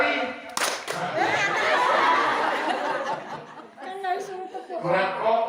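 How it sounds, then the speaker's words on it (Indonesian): A religious study group gathered before Ramadan claps sharply once on cue near the start, followed by chuckles, laughter and chatter, with speech in the room. "tepuk sekali, tepuk dua kali, tiga kali"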